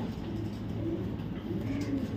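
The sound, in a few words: pigeons cooing, racing pigeons for sale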